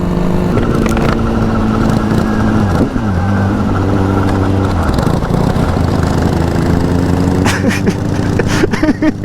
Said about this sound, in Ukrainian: Щось мені кажеться, що в нього один циліндр тільки працює і все